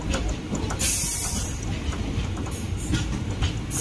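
Train rolling along railway tracks in open country near a Chennai-bound route, a steady broadband rumble with hiss and a brief high squeal early on, continuous and fairly close, no talking.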